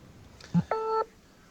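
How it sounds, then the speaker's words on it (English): Two short electronic telephone tones, a brief low blip followed by a longer multi-tone beep, clear and close with nothing else around. "somebody just beeped"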